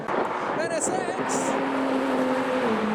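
A Honda NSX sports car sweeps past quickly at a JDM car show, its engine note rising and falling as it goes by, with onlookers talking over it.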